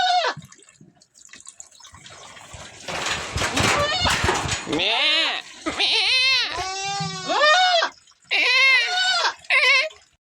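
Goats bleating on a farm field, several loud, close calls with wavering harmonic cries, coming in bursts in the second half, preceded by a noisy stretch of clatter and rustle.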